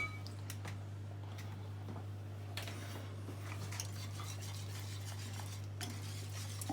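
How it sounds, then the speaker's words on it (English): A whisk scrapes and stirs a sauce in a pan over raised heat, a steady clinking, swishing stir with light sizzle underneath and a continuous low hum in the background, close and fairly quiet. "I'm going to switch now over to a whisk and turn the heat up a little."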